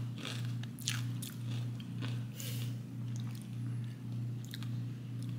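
Crunchy spicy ketchup-vinegar chips being bitten and chewed close up, a steady run of crisp crunches and chewing over a constant low background hum, with no talking.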